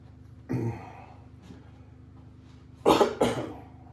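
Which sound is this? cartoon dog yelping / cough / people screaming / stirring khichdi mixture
cough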